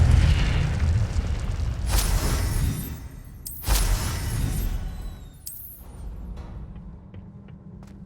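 An Incendio fire spell in a Hogwarts video game bursts with a loud, deep whooshing boom, followed by a second blast and crackling, fading fiery rumble.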